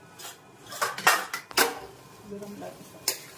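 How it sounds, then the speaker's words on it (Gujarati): A spoon scraping and clanking against a pan while crushed corn kernels are stirred for chevda, a handful of sharp metallic knocks and scrapes, close and fairly loud. "હવે ક્રશ કરેલી મકાઈ એમાં નાખી દેવાની, દાણા બધા, એને હલાવી નાખવાનું"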